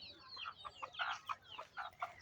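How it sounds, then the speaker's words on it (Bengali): A chicken clucks close by at a rural bungalow, giving a quick run of short, repeated clucks. "মুরগি"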